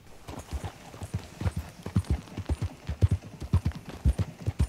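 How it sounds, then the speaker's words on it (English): Horse hooves clip-clop steadily along a trail in the Red Dead Redemption countryside, a continuous rhythmic gait of dull thuds, close and fairly loud, with no voices. "I have explored on my horse in Red Dead Redemption"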